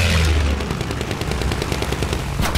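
Battlefield 1 gunfire: rapid, loud automatic shots in a steady close rhythm over dense battle noise, closing with a sharper burst near the end.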